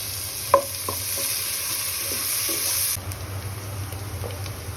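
A handful of chopped onion frying in a pan alongside pre-fried lentil bori for a tengra fish curry: a steady, close, bright sizzle with a few sharp stirring clacks early on, and the hiss eases somewhat near the end.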